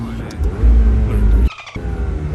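Lamborghini Urus engine rumbling on a test drive, a steady loud low drone that drops out briefly midway before resuming, with voices talking over it.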